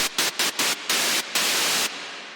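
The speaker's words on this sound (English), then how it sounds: "So here is white noise." A synthesizer puts out bright white noise in short stuttering bursts, six chopped hits followed by a longer sustained hiss that cuts off abruptly, leaving a faint low tail.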